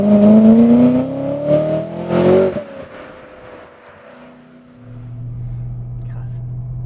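A G-Power supercharged BMW E92 M3 accelerates hard, its engine note climbing loudly for about two seconds, then easing off into a steady lower drone as it settles.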